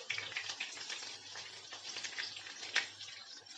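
Chopped shallots sizzle in hot oil for a Kerala-style banana moru curry, a steady bright crackling fry with small pops, close and fairly quiet with no talking.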